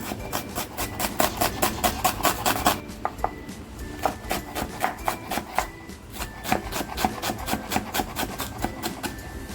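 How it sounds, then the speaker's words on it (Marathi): Half an onion is finely chopped with a knife on a board, a close, fast run of steady rhythmic taps with a brief pause before the chopping resumes. "अगोदर कांदा आहे ना बारीक कापून घेते"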